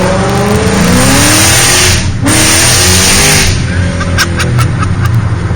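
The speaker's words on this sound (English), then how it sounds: "You have them spinning tires, do you?" Ford Mustang GT engine revving loudly as its tires spin, rising and falling engine pitch with a harsh roar, very close and loud, no speech.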